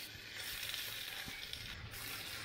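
A medium onion, sliced lengthwise, sizzles in hot coconut oil in a cooker, a steady close hiss of frying with a few soft crackles and no voices.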